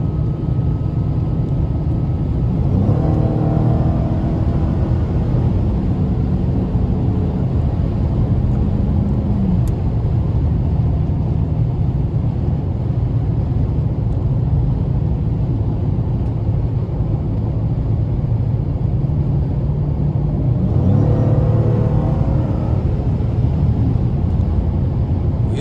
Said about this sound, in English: I'm gonna just try to let y'all hear the engine